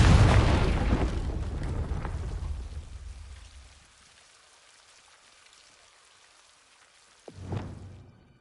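In Hogwarts Legacy, the Confringo fire spell goes off as a loud, crackling, rushing blast that fades over several seconds to near silence. A second burst flares up close to the end.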